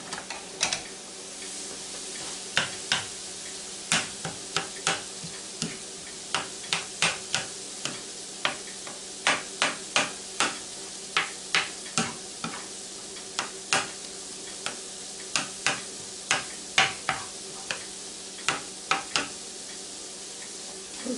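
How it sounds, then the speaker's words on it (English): Browned beef is stirred in a Ninja Foodi, making a steady run of crisp scraping clicks every half second or so over a soft sizzle, close up and without talk. "I'm going to start mixing all this stuff together."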